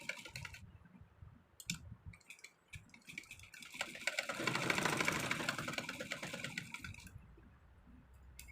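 A sewing machine stitches along a canvas-lined neckline edge, starting with a few short clicks and bursts before settling into one steady whirring run and then stopping, close and fairly quiet.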